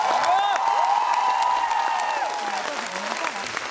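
Audience applause at a Paris film premiere, steady dense clapping with a few cheers and whoops from the crowd, loud and continuous throughout with a voice faintly heard beneath.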